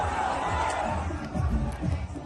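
A crowd gathered at a BJP campaign rally in Nagaon district's Rupahi, Assam, a dense roar of voices and shouts, steady and fairly distant.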